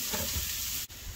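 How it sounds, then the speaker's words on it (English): Onions sizzling in a skillet, giving a brief, steady, close frying hiss with a tiny dip near the end. "we will cook this for just a couple minutes till the onions start to be translucent"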